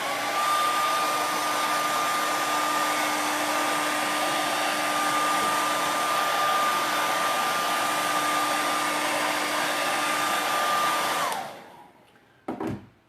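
A hair dryer blows steadily on fresh black paint on a wooden winter door hanger, a loud, even whine that runs unbroken for about eleven seconds before switching off, followed by a couple of faint handling knocks.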